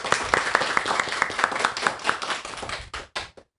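Podcast crew clapping together at the start of an episode, a burst of quick close handclaps that thins to a few scattered claps and stops.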